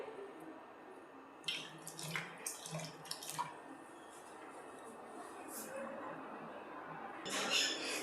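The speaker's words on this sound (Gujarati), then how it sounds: "હવે આપણે થોડુંક પાણી નાખીને સરસ રીતે ધોઈ લેશું 2 પાણીએ" Cut bitter gourd is rinsed and rubbed by hand in water, giving intermittent close splashes and sloshes over a steady low background, with a heavier burst of splashing toward the end.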